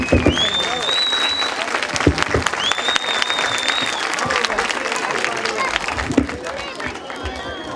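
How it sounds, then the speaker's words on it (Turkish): Loud, sustained audience clapping fills a Karagöz and Hacivat show with a magician, a dense steady roar of hands with crowd hubbub and occasional talking above it. "alkışı duydun mu şiddetini Ecrin?"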